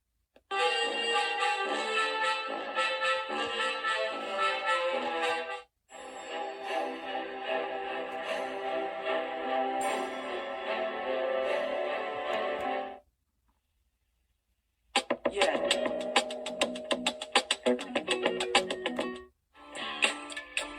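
A T-6621 21-band world radio plays music from a USB stick, bright and clear with full continuous passages broken by two short silences.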